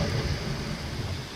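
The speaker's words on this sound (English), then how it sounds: "I see lightning and mist, rain," Thunder and rain in the Skyrim video game, a dense continuous roar of rainfall with deep rumbling underneath, loud and steady throughout the short moment.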